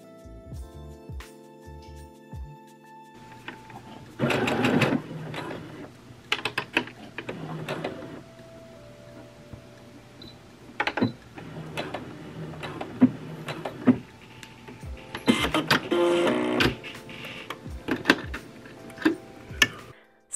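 A sewing machine overcasts the edge of ballet skirt fabric in several bursts of rapid mechanical stitching, close and clattering, with pauses and clicks between runs.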